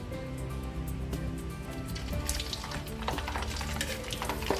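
Chicken feet frying in batches in hot oil produce a dense, continuous crackling sizzle with spitting pops throughout, close and steady with no talk.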